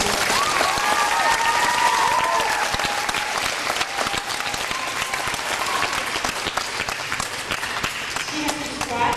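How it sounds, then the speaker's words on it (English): A hall audience at a school safety patrol awards night claps in a sustained, dense round of applause lasting several seconds, with crowd murmur and a voice speaking over it. "So let's clap again for Captain."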